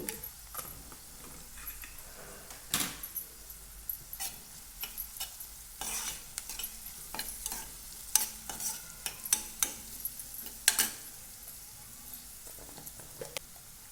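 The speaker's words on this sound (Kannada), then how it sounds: "ಒಂದು ಗಟ್ಟಿ ಬೆಳ್ಳುಳ್ಳಿನ ಅರ್ಧ ಅರ್ಧ ಕಟ್ ಮಾಡ್ಕೊಂಡಿದ್ದನ್ನು ಹಾಕಬೇಕು ಹಾಕಿ ಚಂದ ಕೈ ಆಡಿಸ್ಬೇಕು" Halved garlic being stirred in a pan for dry okra masala, with scraping spoon strokes and light sizzling repeating irregularly throughout, fairly close and without talk.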